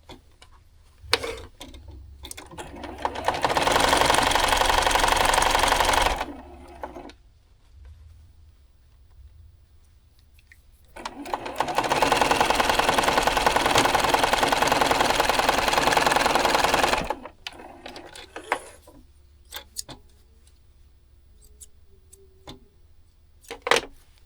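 A sewing machine stitches seams on a modern quilt block in two long, loud runs of several seconds each, with quiet pauses and small handling clicks between them.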